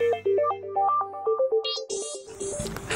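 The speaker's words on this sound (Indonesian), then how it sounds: "Kok kayak ada yang getar-getar ya?" A new handphone rings with a melodic ringtone, a bright sequence of stepping tones played loud and close, with higher electronic chimes and buzzy vibration-like noise joining toward the end.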